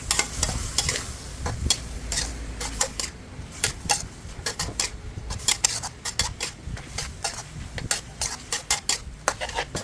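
Pork with bell peppers stir-fried in a pan in a home kitchen, with a steady sizzle under repeated scraping and clattering of a spatula against the pan, close and busy throughout, no talking.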